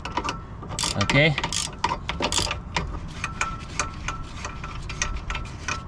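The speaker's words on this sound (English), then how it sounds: "Take it off with a regular socket wrench." A regular socket wrench ratchets in quick bursts of clicking while loosening the lower strut nut on a Honda Civic during a KYB strut install, close and fairly loud, with a brief spoken word.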